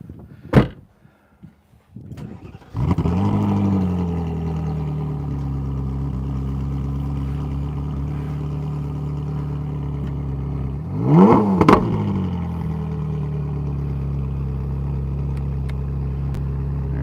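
A Ferrari engine cranks and catches, then settles into a loud, steady idle with one sharp rev blip near the end. Earlier there is a brief click and a clunk, and nobody speaks.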